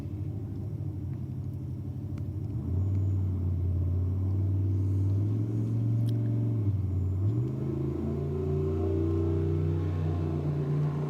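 Nissan S15 and Mercedes C63 drag cars brake boosting at the start line at Sydney Dragway, a loud sustained engine drone that steps up in pitch twice, heard from a moderate distance without talk.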